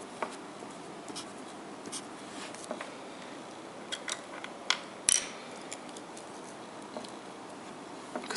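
Pen or marker scratching out lines of an entity relationship diagram for a SQL database tutorial, a soft steady scraping with occasional taps and one sharper click, close and alone with no talking.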